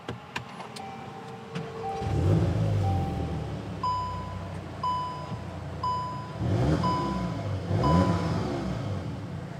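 Electronic chimes ring, then a 2025 Volkswagen Golf R engine cranks and catches, settling into a low idle while a series of soft warning beeps repeat over the running motor.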